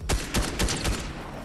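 Rapid bursts of automatic gunfire in a multiplayer shooter game, four quick volleys in about one second before trailing off, loud and close with no talking.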